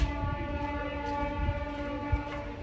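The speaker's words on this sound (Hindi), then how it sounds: "हॉर्न की आवाज़ आई तुम्हें, ये ट्रेन के हॉर्न की आवाज़ है" A long, steady train horn blares continuously, rich and droning, with the low rumble of the train underneath.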